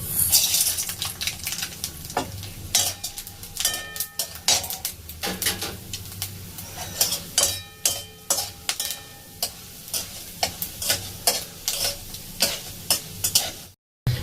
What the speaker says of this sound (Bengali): একটা শুকনো লঙ্কাকে তেলের মধ্যে দিয়ে দিলাম ফাটিয়ে। দিচ্ছি একটু ছোলার ডাল আর সর্ষে।